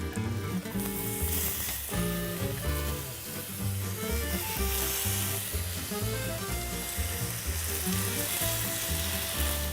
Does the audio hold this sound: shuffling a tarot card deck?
no